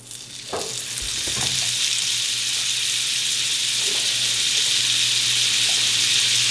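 Two eggs frying sunny side up together in a pan, a loud, steady sizzle that holds throughout after a few soft knocks at the start.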